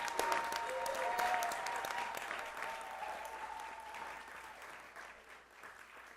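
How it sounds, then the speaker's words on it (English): Applause at a Rochester city council meeting for newly certified doulas, a sustained patter of hands clapping that gradually softens over about six seconds, with a faint tone underneath. "Let's give them up, round of applause"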